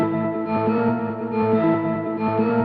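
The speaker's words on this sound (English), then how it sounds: "I like the filter echo." A dark trap melody played on an MPC runs through a filter echo effect, giving repeating tonal notes with pulsing, rhythmic swells that trail off at the end.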